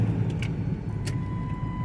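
Tenth-generation Ford F-150 pickup truck accelerating, a steady low engine drone sustained throughout with a faint electronic beep tone running underneath.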